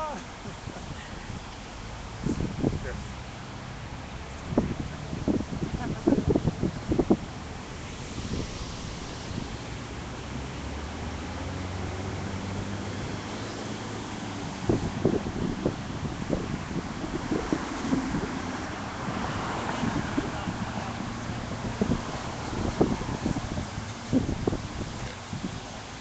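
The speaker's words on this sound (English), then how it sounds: "That wind." Wind blows outdoors at a chilly street protest outside a Romney fundraiser, a steady broadband rush and low rumble buffeting the microphone, while people talk nearby.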